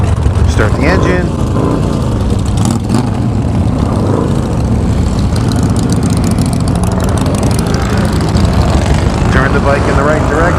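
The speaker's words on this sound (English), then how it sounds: "Start the engine." A Harley-Davidson motorcycle engine runs loud and close with a steady low rumble throughout, heard outdoors after a breakdown in Daytona, with wind noise and no clear start-up burst.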